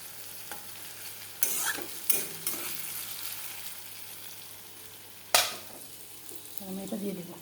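Pasta frying and being stirred in a pan while making cheesy pasta, a continuous sizzle broken by several sharp scraping clatters of a utensil against the pan, close and fairly loud.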